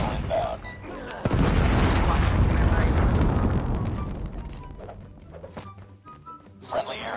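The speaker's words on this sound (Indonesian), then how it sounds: "Predator missile inbound." A predator missile strike in Call of Duty Mobile lands with a heavy thump, then a long rumbling roar of explosion that slowly fades into scattered debris and game noise, with voices talking over it.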